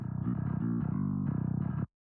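Distorted electric guitar in a modern aggressive song, band-limited to its middle frequencies, a thick buzzing chugging riff with shifting chords that cuts off abruptly, no voices.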